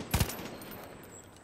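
A gunshot burst in Far Cry 5: two sharp, close reports in quick succession at the start, fading into a low ambient rumble.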